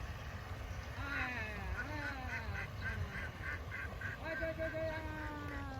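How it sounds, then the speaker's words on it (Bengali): Ducks quack in a wetland haor area, a run of nasal calls rising above a constant low rumble of wind or a boat engine, the birds at moderate distance. "কাকার হাঁস"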